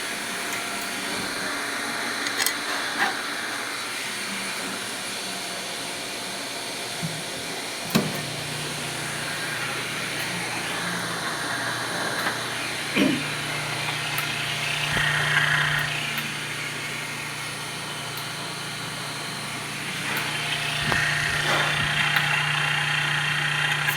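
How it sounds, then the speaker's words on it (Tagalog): A small electric water pump motor of an ice maker machine hums steadily and close up, with a constant drone and faint mechanical vibration, plus a few light clicks and knocks. "Isa pa itong maliit na pump motor."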